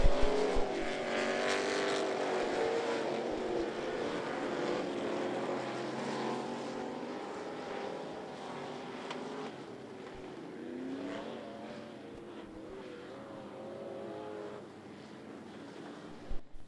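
Race cars in a B Hobby heat race roar around the track, several engines droning and revving continuously, rising and falling as they pass, loud and without a break.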